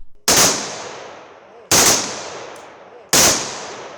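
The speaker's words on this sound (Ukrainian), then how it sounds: "На знак прощання з героєм пролунав триразовий військовий салют." Three sharp, loud rifle volleys of a military funeral salute for a fallen soldier, fired at even intervals, each crack followed by a long echoing decay.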